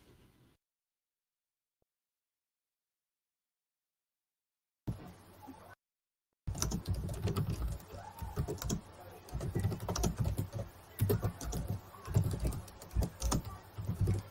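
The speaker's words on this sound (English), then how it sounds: "I'm typing in the chat the same thing." Typing on a computer keyboard, close rapid irregular key clicks in bursts after a long silent stretch, with no talking.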